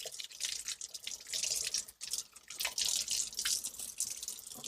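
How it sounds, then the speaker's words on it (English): Hot tap water runs steadily into a sink while a syringe is rinsed, a continuous splashing hiss with a brief break partway through. "all I do is just rinse it off with hot water"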